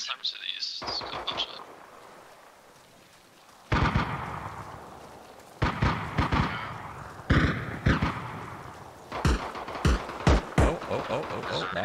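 An enemy self-propelled gun fires in the Arma Reforger military shooter game, sounding as a series of heavy booming blasts and sharp cracks at irregular intervals, some separated by quiet stretches, with gameplay ambience between them.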